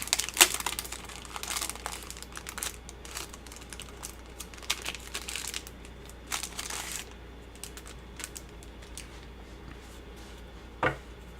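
Cellophane wrapper on a card game box crinkles and crackles in irregular bursts, fairly close, with sharp tearing snaps scattered throughout and no talking.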